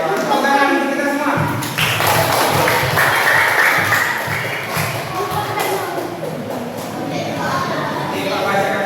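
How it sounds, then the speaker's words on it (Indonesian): Classroom students applaud together for several seconds, a steady wash of clapping with some thumps and shuffling mixed in, fairly close and loud, tapering slightly toward the middle before swelling again. "Tepuk tangan kita semua."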